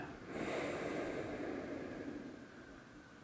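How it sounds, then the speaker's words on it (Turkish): A slow, deep breath drawn in and let out during a breathing exercise, a long airy hiss that swells and fades gradually over a few seconds, close and fairly soft, with no talking. "arka arkaya yavaş ve derin nefes alın"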